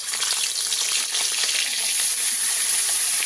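A catla fish head coated in salt and turmeric fries in hot oil, giving a dense, continuous sizzle and crackle that stays loud and even throughout.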